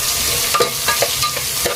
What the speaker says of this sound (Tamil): இப்போ அதையும் நல்லா வதக்கிடலாம்.